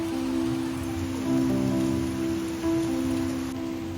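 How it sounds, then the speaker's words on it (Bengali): Heavy downpour of rain drumming steadily on surfaces, loud and continuous throughout with no voices, plus a faint high steady whine in the background. "এই যে বৃষ্টি, কিরকম মুষলধারে বৃষ্টি হচ্ছে।"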